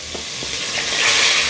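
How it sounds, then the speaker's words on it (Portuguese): Chicken pieces dropped into hot pork lard in a stone pot, sizzling and crackling loudly with a brief stir, the frying swelling steadily stronger. "Agora nós vamos fritar esse frango, ó. Só colocar ele aqui na panela."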